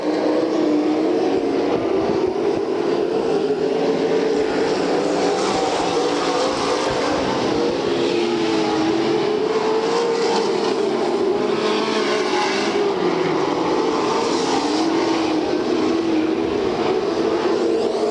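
Race car engines roar at a Bakersfield oval in a Budweiser Racing Series event, a steady loud drone of several cars with rising and falling pitch as they come off the turns, continuous for the whole stretch with no talk.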